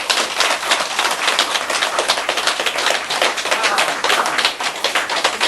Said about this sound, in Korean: 기뻐하시라. 박수.